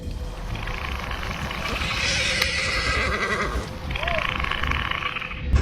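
Spooked horse whinnying near a campsite, wavering neighs rising and falling over a couple of seconds with a second cry near the end, over a constant background hiss.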